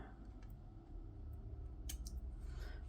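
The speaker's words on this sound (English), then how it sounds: "Let's cut it to the length we want." Scissors cut a strip of craft material for a paper folio, giving a few soft, quick snips over a steady low background hum, close and fairly quiet, with no talking.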